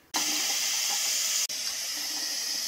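Water pours steadily into the solution tank of a Clorox Ready Mop, a continuous close hiss with a brief break midway, no talking.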